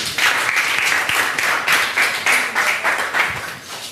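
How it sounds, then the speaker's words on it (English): A small group of people clapping, with uneven bursts of hand claps rising and falling in quick rhythmic waves, moderately close. "Can you clap for him?"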